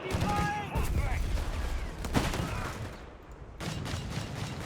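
Suppressive fire on a Flak 30 emplacement in Company of Heroes 3: rapid overlapping bursts of gunfire and a sharp crack, with a commentator's voice running underneath before a brief lull and more shooting.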